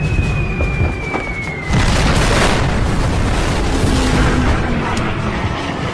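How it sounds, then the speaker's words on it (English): Bombs bursting on the battleship Yamato during an air attack, a sudden loud blast followed by a sustained rumbling roar, preceded by a falling whine. "bombs strike aft of the battleship's superstructure"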